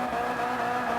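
A budget drift car slides sideways with a sustained, loud tire squeal blended with steady engine drone, continuous and close throughout.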